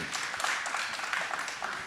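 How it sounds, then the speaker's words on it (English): Steady, dense crowd applause from a live audience at a real estate talk, continuous and moderately loud throughout with no clear breaks. "Round of applause for that play"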